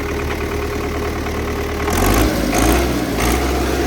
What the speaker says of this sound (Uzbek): motor holatlari ham juda tekislab turibdi.